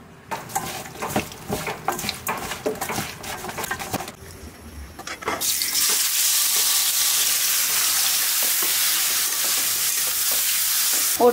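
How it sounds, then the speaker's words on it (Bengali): Vegetables with green chilli are stirred in a pan, giving close clattering scrapes and bursts of frying for about four seconds, then a brief lull before a loud, steady sizzle takes over until the end. "কষায় সবজি দিয়ে কিছুক্ষণ নেড়ে চেড়ে নামিয়ে ফেলবো"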